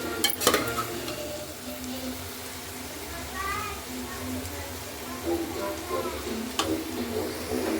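Chopped vegetables fry and are stirred in a pot for vegetable pulao, a soft continuous sizzle with occasional utensil scrapes and taps, while faint voices sound in the background.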